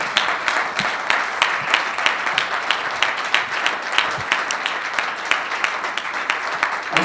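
A church congregation applauds together in steady, dense clapping that fills the whole stretch at an even level, with scattered sharper individual claps standing out.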